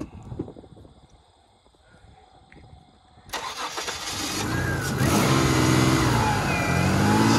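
A Ford Escape engine cranks and catches after a few quiet seconds, then rises into a loud, steady run close by with some revving and no talk.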